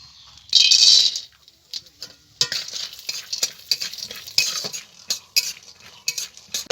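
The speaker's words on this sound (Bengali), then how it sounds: "এই বাদামগুলোকে আমি ভেজে নেব" Peanuts frying in ghee in a kadai, with loud rattling and scraping bursts as they are stirred and tossed, irregular and close, over a light sizzle.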